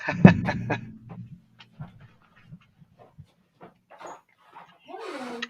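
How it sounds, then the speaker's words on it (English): A dog pants and scrabbles at a door trying to get in, a few loud knocks and scratches at first, then quieter scattered bumps and a short whine near the end. "I'm just going to open my door because my dog's trying to get in."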